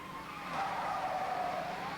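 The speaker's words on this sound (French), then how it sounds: "L'eau gicle de leurs pneus." Car tires throw up water on a rain-slicked city street during a police chase, a steady close hiss of spray with a faint whining tone running through it.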